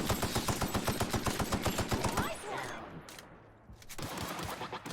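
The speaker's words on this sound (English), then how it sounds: "All right, assault rifle." In The Outer Worlds video game, an assault rifle rattles off a rapid automatic burst for a couple of seconds, falls quiet, then a shorter burst starts near the end.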